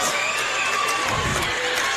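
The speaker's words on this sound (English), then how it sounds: "Everyone was clapping, banging on the seats, everything. So, I mean, it's continuing to get loud here." A gym crowd at a boys varsity high school basketball game roars and cheers continuously, loud and dense, with shouts mixed into the wall of noise.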